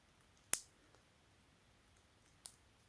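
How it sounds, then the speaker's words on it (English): A single sharp, faint click as a spring bar pin disengages from a watch band, followed by a second softer click about two seconds later, in an otherwise quiet room. "And then hear the click like I disengage."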